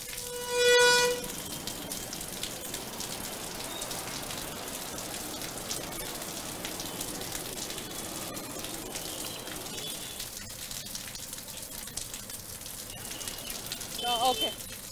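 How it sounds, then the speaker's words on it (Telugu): Heavy rain pours down across Hyderabad as a dense, constant hiss, with brief tonal sounds like distant horns at the start and the end. "ముఖ్యంగా అన్ని ప్రధాన కూడల్లో జీహెచ్ఎంసీ వ్యాప్తంగా కూడా గంట పాటు నుంచి ఏకదాటిగా వర్షం కురుస్తున్నట్టుగా తెలుస్తుంది."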